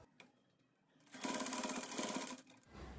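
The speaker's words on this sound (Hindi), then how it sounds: "जहाँ पे हमने डॉट लगाया है अब उसी डॉट पे हम स्टिच कर लेंगे।" An electric sewing machine stitches a suit sleeve seam in a short, close whirring run of about a second and a half, with faint clicks before and after.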